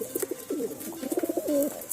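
A pigeon coos close by in soft, throaty, rhythmic pulses that repeat in quick phrases over a couple of seconds, with faint chirps in the background.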